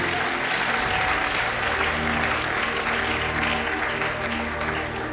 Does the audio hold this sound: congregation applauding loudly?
yes